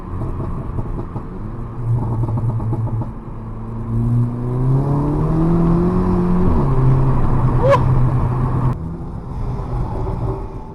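A 250 bhp Volkswagen Polo GTI engine revs up with a rising, throaty whine, holds at high revs, then drops back to a low idle rumble, close and loud.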